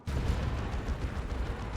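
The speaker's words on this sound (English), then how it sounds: "Manticore strike on the Havocs" Manticore artillery strike pounding an area in Dawn of War 2, a dense rumbling barrage of low, booming impacts rolling on steadily for under two seconds without a break.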